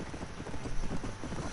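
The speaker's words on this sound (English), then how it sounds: "I had to ride some in-game nag" Horse hooves clip-clopping at a steady trot in the western game Red Dead Redemption, a continuous rhythmic beat of close, moderately loud footfalls with no talk over them.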